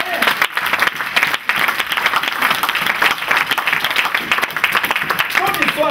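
Congregation in a church applauding, a dense, sustained wash of many hands clapping at steady loudness throughout, with crowd voices mixed in.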